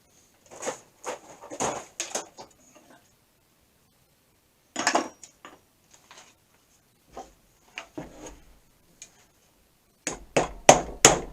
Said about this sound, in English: I have to get some love by a hammer or two.